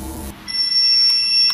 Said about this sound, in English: it was able to alarm our equipment